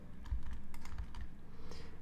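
Rapid, uneven clicking of keys on a computer keyboard as Java code is typed, close and clear with no talking, steady keystrokes running the whole time.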